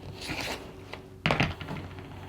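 A rotary cutter trims a quilt's half square triangle fabric block in two quick, close scraping strokes, with a short pause between them.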